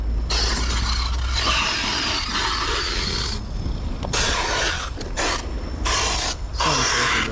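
The rear differential of a Traxxas X-Maxx RC car, whose pinion gear has been stripped, makes harsh grinding and whirring bursts that start and stop. The noise is loud and close, broken by short gaps.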